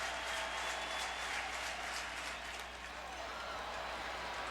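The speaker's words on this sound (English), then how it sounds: "Crowd going bananas." Stadium crowd roaring and cheering at a Cubs–Cardinals baseball game in St. Louis after a hit, a broad steady wash of noise with scattered claps, held at constant loudness throughout.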